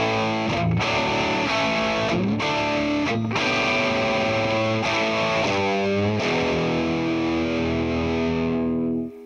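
An electric guitar played through a Fender Super-Sonic amp with high-gain overdrive gives a thick, distorted rock tone. Loud chords ring out and are briefly choked a few times, and the last chord is left to sustain and fade.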